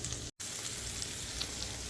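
Onions and blanched green beans sizzle in a hot pan as they caramelize, a soft, continuous crackling hiss broken by a brief dropout, with no voices.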